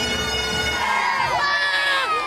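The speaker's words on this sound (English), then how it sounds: "The unmistakable sights and sounds of Cleveland's St. Patrick's Day Parade" Crowd at Cleveland's 145th St. Patrick's Day Parade downtown, a dense continuous roar of cheering, whooping and shouting from a huge gathering, loud and close.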